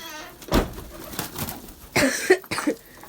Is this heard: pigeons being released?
yes